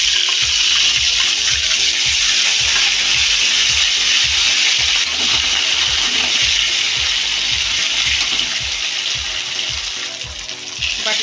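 Tomato and spice paste sizzling steadily in a pan, loud and close, with a busy crackle and a rapid run of small ticking pops.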